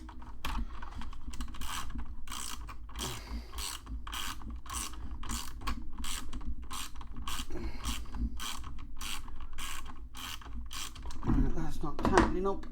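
A part on a Valentino Rossi model motorcycle kit is tightened with a small tool, making a steady run of quiet, close ratcheting clicks that end in a brief louder fumble.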